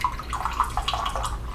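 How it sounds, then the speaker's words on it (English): Hot water pours into a small clay teapot to warm it, a bright, bubbling trickle with splashy gurgles and drips, close and moderately loud, no voices. "What I'm doing here is just pouring some hot water to heat up the pot"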